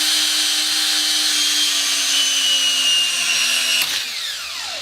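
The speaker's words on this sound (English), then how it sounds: "So that actually busted the drill bit" A power drill grinds into a cast iron toilet flange with a steady high whine and harsh scraping, then a sudden crack as the bit breaks, followed by a brief fading ring.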